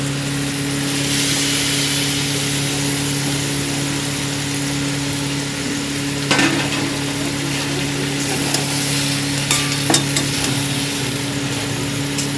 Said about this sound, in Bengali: আমি এইভাবে নাড়িয়ে নেব ভালো করে